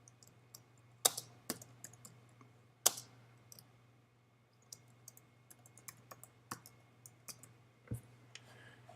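Sharp computer mouse clicks mixed with a scattering of light keyboard taps while a new folder is named on a desktop, close and intermittent over a steady low hum, with no talking.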